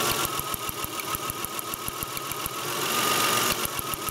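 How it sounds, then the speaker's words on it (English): Toyota Avalon engine idling with one ignition coil pulled during a misfire repair, a steady close mechanical hum with rapid regular ticking and snapping pulses from the coil arcing, loud and continuous with no talk. "I pulled that out and I could hear that coil arcing as well."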